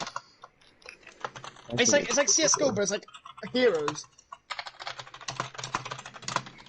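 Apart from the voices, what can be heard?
loud typing on a computer keyboard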